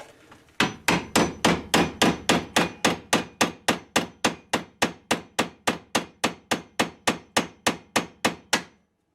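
A screwdriver is hammered behind the rear hub backing plate of a Chevrolet Traverse during a wheel bearing replacement: about two dozen loud, sharp metallic strikes in a steady, even rhythm, close up and with no talking.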